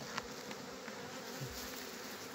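Young honey bees on their first flight make a steady, dense buzzing swarm hum. The sound is continuous and fairly faint, with no voices.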